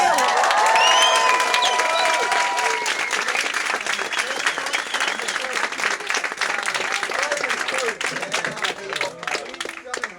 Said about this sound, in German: Dankeschön an Skillet. Dicken Applaus.